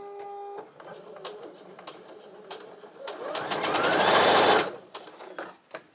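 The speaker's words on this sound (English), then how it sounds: "now I'm going to start sewing on the left pieces" A sewing machine stitches quilt pieces for a one-layer cake quilt, a close, rapid mechanical chatter that builds to a loud burst of stitching after a few quiet handling clicks, then stops.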